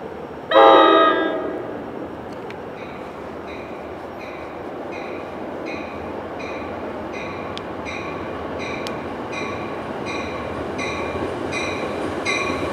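A train horn blares once near the start, then the steady rumble and rhythmic clatter of a diesel train rolling past Mountain Station for a long stretch.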